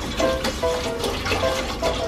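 Seawater is poured from a container into a cooking pot, a close, continuous splashing gurgle with small rhythmic surges and bubbling pulses throughout, with no voices over it.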